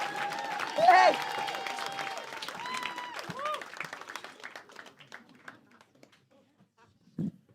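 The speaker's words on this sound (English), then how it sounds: "Keep the round of applause going." Comedy club audience applauding and cheering as a comedian takes the stage, loud at first with shouts and whoops, then thinning and fading out over several seconds.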